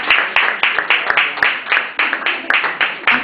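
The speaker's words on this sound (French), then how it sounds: "Applaudissons pour cette maman." At a women's church anniversary gathering, people applaud a mother in rhythmic, fairly loud unison clapping, regular beats about three per second, with voices faint beneath.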